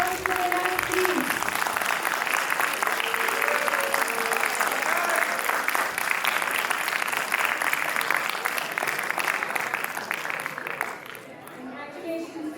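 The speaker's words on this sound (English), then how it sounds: "A huge round of applause to the winners, please." An audience at a school military history quiz claps for the winning team, sustained applause with a few murmuring voices, fading toward the end as a voice begins.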